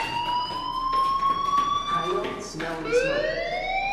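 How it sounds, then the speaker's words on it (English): Fire alarm in the Life is Strange video game, a steady electronic wail with rising and falling siren-like tones that sounds loud and continuous throughout. "Hey, do you hear that fire alarm?"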